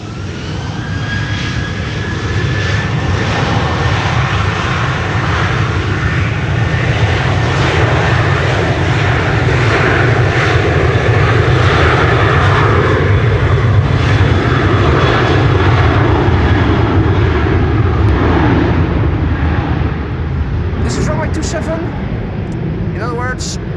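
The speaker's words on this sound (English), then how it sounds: "so Helvetic Embraer landing" A Helvetic Airways Embraer jet lands at Amsterdam Schiphol during a storm, its engines a loud, sustained roar close by over strong wind. People talk over the noise.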